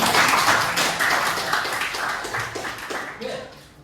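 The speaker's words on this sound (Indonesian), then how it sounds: "Tepuk tangan dong." Students in a classroom clapping their hands together, a short round of scattered applause that gradually fades out.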